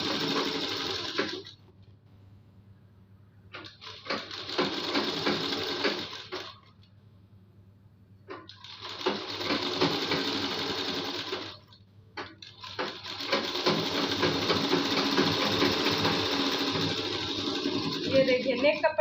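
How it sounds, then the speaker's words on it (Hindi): A domestic sewing machine stitches fabric for a suit or kurti neckline in several bursts of steady whirring, pausing briefly between runs, close and fairly loud. "तो 1/2 इंच पकड़ के इस पे हमें सिलाई लगाना है।"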